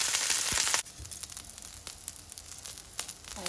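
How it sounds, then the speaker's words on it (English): Foraged greens fry in a little oil in a hot pan, giving a steady close sizzle and crackle with small pops throughout. "I have a hot pan with a little bit of oil, and I'm just going to cook these for 5 to 7 minutes"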